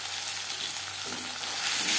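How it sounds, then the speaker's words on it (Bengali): Ground bottle gourd leaf paste is frying with browned onions, giving a steady close sizzle with a faint stirring scrape. "পেঁয়াজ ভাজা হয়ে গেছে। এই পর্যায়ে দিয়ে দেব বেটে রাখা লাউ পাতা।"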